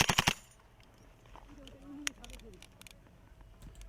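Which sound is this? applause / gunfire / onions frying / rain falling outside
gunfire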